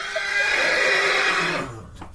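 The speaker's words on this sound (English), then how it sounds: "Here's a horse sound." A horse neigh played as a sound effect, one long loud whinny that holds steady and then trails off into a short snort at the end, with no voices over it.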